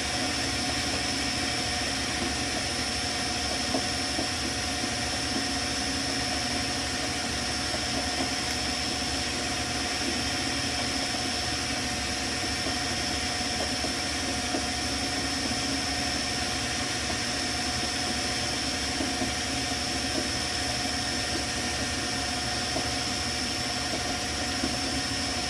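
A metal lathe turns a workpiece with the tailstock offset, a steady, continuous mechanical hum and whine that holds level for the full stretch, close and fairly loud, with no talking.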